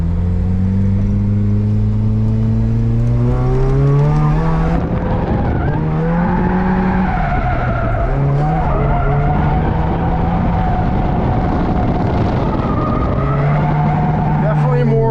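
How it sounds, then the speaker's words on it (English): A Volvo 740 with IPD 25mm sway bars and drift tires on the rear slides through turns while its engine revs hard and loud, with tires skidding and squealing in long sweeps as engine pitch rises and falls. "Let's compare how the car drifts with these new IPD Swaybars."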